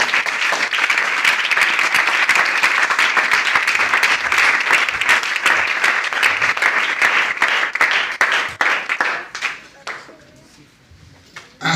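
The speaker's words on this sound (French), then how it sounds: "Est-ce qu'on peut acclamer Jésus?" A church congregation applauds and cheers for Jesus during a French-language worship service, steady loud clapping filling the room for about nine seconds before thinning out into scattered claps and fading.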